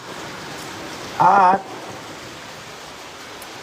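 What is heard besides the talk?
heavy rain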